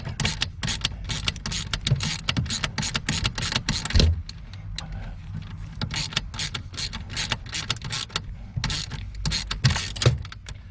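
Ratcheting socket wrench loosening the long bolt on the brake light switch sensor of a 2012 Buick Enclave, a steady run of quick metallic clicks close to the mic, with a few brief pauses and no talk.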